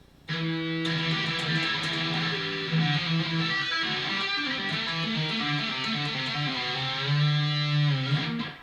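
An overdriven electric guitar plays a solo segment, a sustained, distorted run of fast melodic phrases and bends, loud and alone for about eight seconds.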